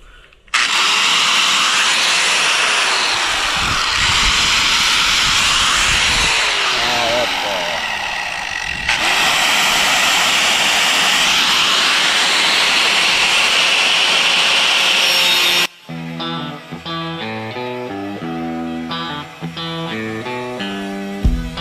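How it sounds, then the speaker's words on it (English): A grinder whirs loudly and continuously for about fifteen seconds with slight shifts in pitch, then cuts off abruptly as music takes over. "Hate this grinder."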